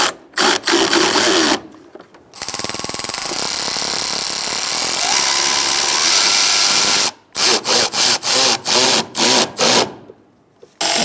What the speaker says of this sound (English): we're going to use a 10 millimeter and tighten up these lower bolts for our airbox.